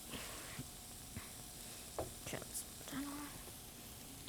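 Steak tips sizzle on a grill as they are flipped, a faint crackling hiss broken by soft scrapes and taps, with quiet, breathy talk underneath.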